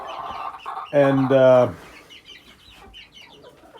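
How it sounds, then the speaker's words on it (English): A rooster crows once among several roosters, a loud, harmonic call lasting under a second, with faint clucks and a brief spoken word around it. "all of a sudden I heard another one cackling or crowing or whatever you call that"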